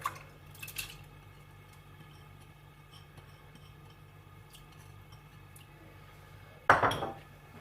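Moong dal lentils tipped into a metal cooking pot with barley for haleem, a single brief rattling clatter near the end after quiet faint clinks, close and alone.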